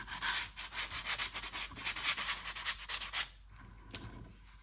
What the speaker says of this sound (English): Just a light sanding will knock down any of those fibers that are sticking through.